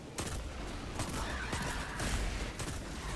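Rapid hand cannon gunfire in the Destiny 2 game, an arc-element weapon, with a string of sharp repeated shots and bursts crowding a dense, loud mix of game effects throughout.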